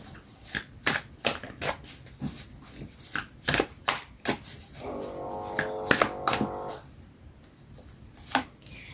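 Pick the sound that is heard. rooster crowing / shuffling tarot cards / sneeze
shuffling tarot cards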